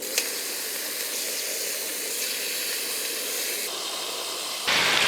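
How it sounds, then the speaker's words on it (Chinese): Deboned duck legs marinated with scallion, ginger and cooking wine fry in their own fat in a pan, giving a steady close hiss and sizzle that grows suddenly louder near the end. "鸭腿上的油特别多，直接煎。"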